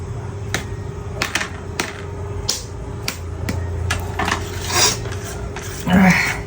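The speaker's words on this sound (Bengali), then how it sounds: "এই যে দেখেন কুচি কুচি করে নিলাম একদম কুচি কুচি করে নিছি" A knife chops fruit into fine pieces on a board, a series of sharp, fairly evenly spaced taps, close and clear, with a person speaking and some light kitchen clatter around them.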